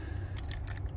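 Fish oil squeezed from a plastic bottle into a small capful: a short, soft liquid squirt and drip, close up and quiet, lasting about a second.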